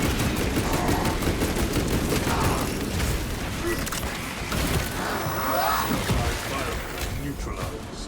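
Servo gun in Warhammer 40,000: Space Marine 2 firing in dense rapid bursts amid a loud, chaotic battle din, with voices talking underneath.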